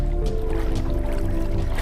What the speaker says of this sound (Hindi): छिंदगांव नामक गांव पे पेटकुली नदी बहती है